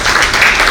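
Audience at a talk on India's economy breaking into applause, a brief, loud burst of dense clapping from a full room.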